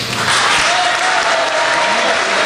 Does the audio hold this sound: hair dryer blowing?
no